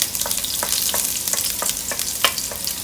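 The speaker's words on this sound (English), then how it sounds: "After we've now heated up the oil, we're now starting with these dried chili and also with the ginger." Dried chili and ginger frying in hot oil in a wok, a close, continuous bright sizzle with rhythmic crackling stir taps, no talking.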